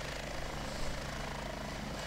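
A Chinook helicopter flies in the combat video game Heliborne, its rotor drone steady and constant, a moderately loud continuous chopping wash with no pauses.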